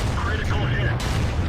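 Loud tank cannon blast in World of Tanks gameplay, a single heavy boom with a rumbling tail that fills the whole moment.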